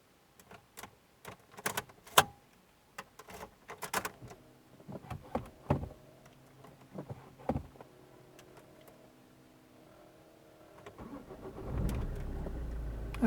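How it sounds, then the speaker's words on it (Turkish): An Opel Astra H sits with interior clicks and relay ticks, then the engine cranks and catches near the end, settling into a loud low idle. "Şimdi aracımı çalıştıracağım"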